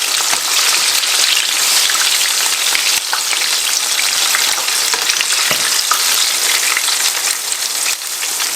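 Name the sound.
chicken frying in oil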